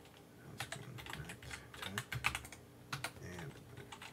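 Quiet keystrokes on a computer keyboard as a password is typed, a few scattered soft clicks followed by a quicker burst of taps, close by with no talking.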